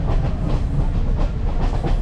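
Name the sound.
train riding on the Kandy-Ella railway in Sri Lanka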